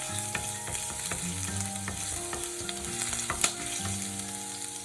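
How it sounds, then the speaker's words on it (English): Ginger sautéing in oil in a pan for an Indonesian tempeh taocoh, a steady close sizzle with scattered clinks and scrapes of a flat wooden spatula stirring, no voices. "Let's start by sautéing the ginger until bright shiny."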